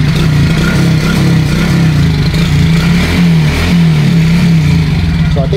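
A Suzuki Raider J FI motorcycle with no battery runs after being kickstarted, its engine holding a steady, loud idle throughout with slight revving fluctuations close by.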